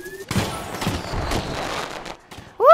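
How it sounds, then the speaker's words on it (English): In the Plants vs. Zombies: Battle for Neighborville video game, a fireworks float near a museum goes off in a rapid, crackling volley of bangs lasting about two seconds, followed by a brief game tone. "Time to set off the fireworks float to lure the last few guards from the museum"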